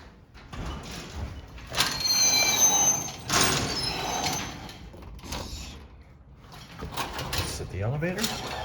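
A 140-year-old elevator at Cermak Lofts in Chicago rises toward the fifth floor, giving off mechanical rumbling, sliding and squealing rail-like noises. People talk over the sound throughout.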